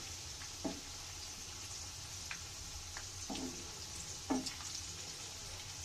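Cauliflower pakora frying in hot oil, a steady close sizzle with a few soft knocks as pieces are turned over.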